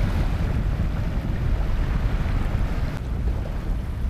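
Small waves wash onto a curving spit on an estuary shore, a steady rushing, low roar of water mixed with wind noise, continuous and fairly close.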